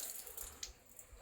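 Water runs from a kitchen tap while a tomato dish is being cooked, a faint, steady hiss of flow with a few soft splashes and no voices.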